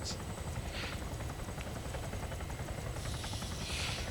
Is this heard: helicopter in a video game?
yes